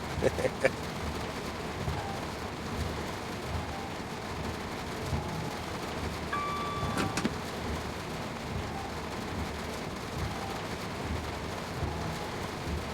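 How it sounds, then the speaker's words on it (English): Steady rain from dynamic weather in a train simulator game, a constant dense hiss throughout with no pauses and a few brief clicks early on. "Will it ever stop raining?"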